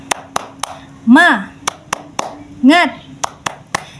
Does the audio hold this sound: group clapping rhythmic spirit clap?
yes